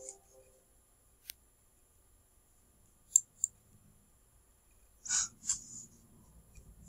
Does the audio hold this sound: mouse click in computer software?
yes